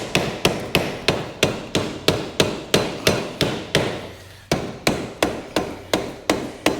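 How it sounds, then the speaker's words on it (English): A rubber hammer strikes a stuck vintage motorcycle engine cover in steady repeated blows, about two per second, each a loud close thud with a short ring, pausing briefly midway. "And again, I'm using a rubber hammer,"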